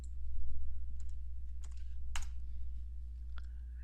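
A few sparse, soft key clicks on a computer keyboard during 3D animation work, spaced irregularly over a steady low electrical hum, with no talking.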